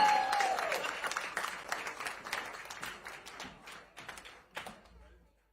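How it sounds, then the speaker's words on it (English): A crowd at an anti-inauguration ball on MLK Day claps and cheers in a dense, close wash of applause. It gradually tapers off over about five seconds, with a few scattered last claps and some voices mixed in. "More big claps"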